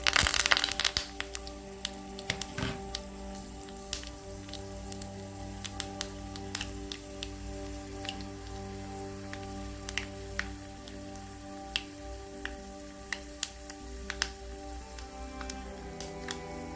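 Chana dal and urad dal dropped into hot oil while tempering for guava chutney, giving a dense, continuous crackle and sputter with scattered sharper pops, close and steady throughout, without speech.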